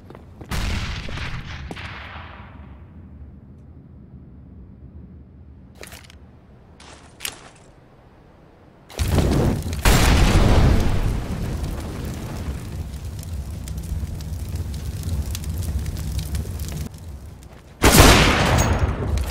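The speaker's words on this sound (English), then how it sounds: "Grenade!" A heavy grenade blast in Counter-Strike: Global Offensive bursts out loud and close, followed by rumbling debris and gunfire, then another sharp blast near the end.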